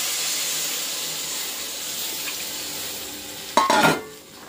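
Steady frying hiss of cooked masala with garlic in a pan, then a short burst of sharper sizzling and clatter near the end as a little water hits the hot pan.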